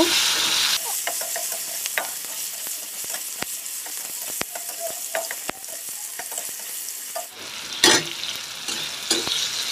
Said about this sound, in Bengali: এখন আমি টমেটোটা ভালো করে কষিয়ে নেব।